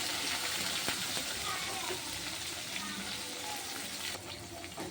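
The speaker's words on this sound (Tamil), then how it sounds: "கருவேப்பிலை இதெல்லாம் ஒன் பை ஒன்னாக நம்ம போட்டு வதக்கிக்கலாம்" Garlic, tomato, curry leaves and small onions sautéing in a pan give a broad, steady hiss that stays fairly constant and moderately loud, with no clear individual stirs.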